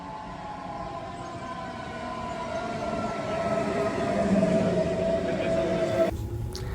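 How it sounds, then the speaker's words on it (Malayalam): A train pulls into a station, its rumble swelling steadily with a sustained high metallic squeal over it, growing louder before cutting off near the end. "നമ്മുടെ ട്രെയിൻ വരുന്നുണ്ട്."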